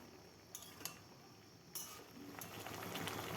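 Malabar spinach curry cooks in an uncovered pan, with a soft, continuous sizzle and bubbling that grows a little louder, broken by a few sharp clinks of a utensil against the pan.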